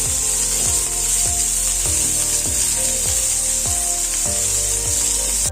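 Chopped onions frying in a pan for sorekayi palya, a steady loud sizzle running throughout, with regular scraping strokes of a spatula roughly every half second.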